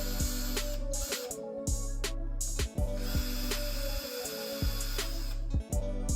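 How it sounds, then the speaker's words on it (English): Ratchet driver working loose the two screws of an old door latch while a deadbolt is being replaced, giving repeated rhythmic clicking bursts with short pauses, close and fairly loud with no talk. "Next, remove the old latch by unscrewing 2 screws."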